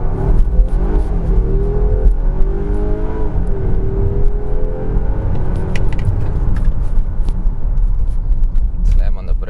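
Volvo XC60 T8 Recharge AWD plug-in hybrid accelerating hard from a stop in auto hybrid mode, a steady loud engine and road rumble building with rising whine over about ten seconds, heard from inside the cabin.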